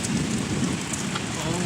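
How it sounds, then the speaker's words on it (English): A Florida afternoon thunderstorm, with heavy rain pouring steadily onto surfaces and wind noise blended in, a dense, even wash of sound. "Thunder, lightning. The skies are gray, and it is raining."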